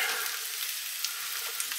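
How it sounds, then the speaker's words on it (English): Steady, close sizzling of potatoes frying in a pan while being stirred, a continuous crackling hiss with a few small pops. "I'm keeping stirring and frying it because I don't really want it to stick"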